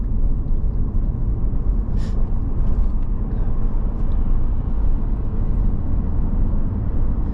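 A car cruises along a road, its interior filled with a constant low rumble of engine and tire noise, loud and unbroken from start to finish, with no one speaking.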